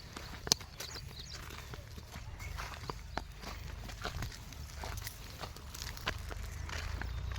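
A buffalo being led along a village path, its hooves thudding in a steady, uneven walking rhythm close by over a low rustling background, with no talk.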